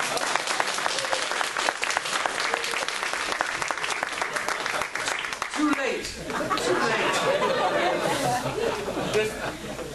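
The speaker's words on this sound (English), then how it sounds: "I was waiting for the applause." Audience applause fills a conference hall, steady clapping with crowd chatter and laughter mixed in, the clapping thinning briefly midway before swelling again.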